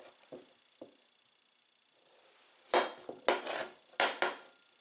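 A rebuilt Billy Joe Rubideoux kitchen knife slicing food on a cutting board, a few soft early taps then a burst of crisp, close chopping strokes in quick pairs, with no talking.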